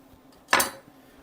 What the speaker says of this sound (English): Go in there, give this a stir